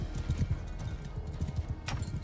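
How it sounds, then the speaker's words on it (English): Horse hooves gallop in Mount and Blade II: Bannerlord, a fast, steady clip-clop rhythm running close throughout, with a brief whinny-like burst near the end and no talking. "now I'm running away on my horse while this guy chases me with his horse"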